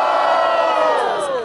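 A crowd at a Batalha da Leste freestyle rap battle roars and whoops for a rapper's rhymes, a loud, dense burst of cheering and shouting close by.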